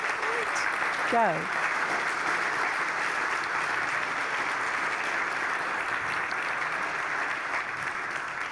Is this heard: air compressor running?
no